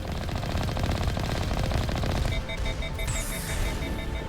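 Sustained combat in the Mass Effect video game, with rapid automatic gunfire rattling continuously and rocket blasts mixed in, loud and dense with no pause, followed by a brief whooshing burst near the end.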